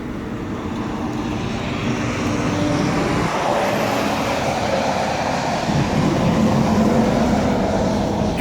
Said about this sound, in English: Truck's going down I-30.